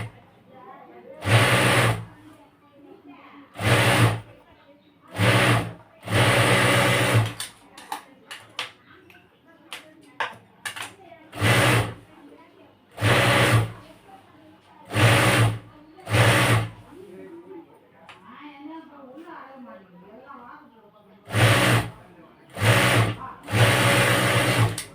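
Sewing machine stitching a nighty, running in loud close bursts of a second or two each, with quiet gaps between them and a voice talking softly in the pauses.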